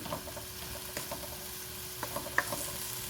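Soft stirring of round-chopped tomatoes, onions, green chilies, spices and minced meat in a pan for stuffed karela, with quiet spoon scrapes and clicks over a faint low sizzle, close and gentle, no speech.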